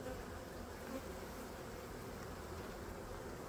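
A dense, steady buzz of many honeybees at a hive hums close by, continuous and unbroken with no voices.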